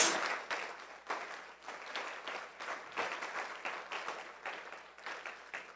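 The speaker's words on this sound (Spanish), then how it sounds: "Yo le daría un fuerte aplauso al Señor Jesús" Church congregation applause swells in loud, close waves, with many hands clapping in a loose, pulsing rhythm that rises and dips roughly every half second to a second.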